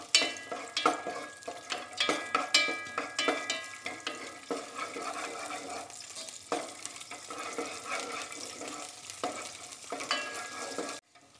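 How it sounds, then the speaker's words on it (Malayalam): Cashew nuts roasting in a pan for apple payasam, a continuous soft sizzle broken by repeated rhythmic stirring scrapes from close by, with no talking. "അണ്ടിപ്പരിപ്പ് ഇപ്പോൾ അത്യാവശ്യം റോസ്റ്റ് ആയിട്ടുണ്ട്"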